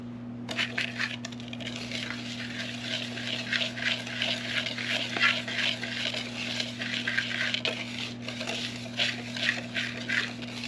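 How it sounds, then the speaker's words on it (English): Whisk stirring cornstarch into a small fruit mixture for peach crumb bars, a quiet rapid clinking and scraping against the bowl running continuously over a low steady hum. "I might use a whisk actually"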